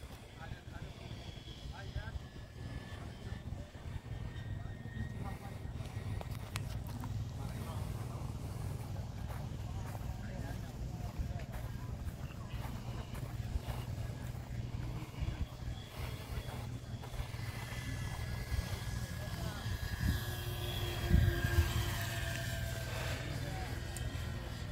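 Dynam B-26 Marauder, a 1.5 m twin-engine 4S electric RC warbird with flaps, taking off along a runway: a steady, fairly loud drone of its motors holding throughout, with people talking over it.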